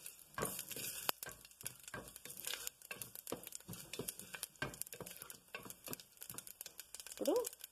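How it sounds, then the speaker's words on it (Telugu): Cumin seeds frying in melted ghee in a pan, a faint crackling and popping patter with scattered sharp ticks, quiet and close. "ఇప్పుడు జీలకర్ర కొంచెం ఫ్రై అవ్వాలి."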